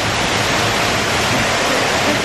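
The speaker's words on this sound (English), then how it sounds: "Let me show y'all the waterfall." Hotel waterfall in San Juan, Puerto Rico, a loud, dense, continuous rush of falling water filling the whole moment with no talking.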